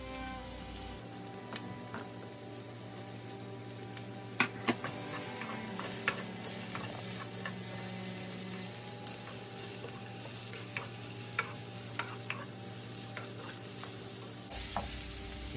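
Shredded cabbage stir-fries in a hot pan for Indian-style spaghetti, a steady close sizzle with frequent scraping clicks of a spatula stirring throughout.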